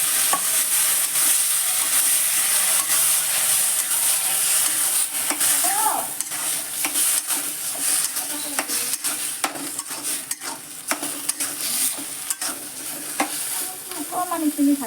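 Potatoes frying in a pan for an egg and potato dish, a constant bright sizzle with frequent scraping stirs of a spatula, close and loud, no talk.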